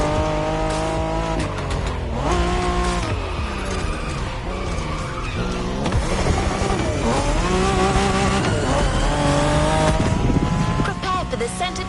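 A Ford Mustang Boss 429 in The Crew Motorfest roars and revs, with shifting engine tones and tyre squeals running throughout. Speech is faintly audible underneath.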